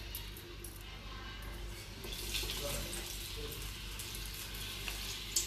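Ajwain leaf bajji fry in hot oil, giving a steady, moderately loud bubbling sizzle that continues evenly throughout with no talking.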